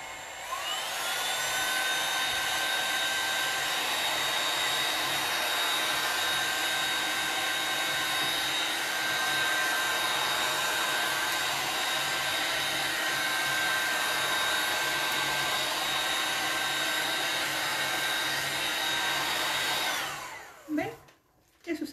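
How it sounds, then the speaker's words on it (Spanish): A heat gun blowing hot air to dry a faux rust oxidation paint finish, a steady loud whine running for about twenty seconds before cutting off, with no talking. "pero rapidito porque tengo la pistola de calor"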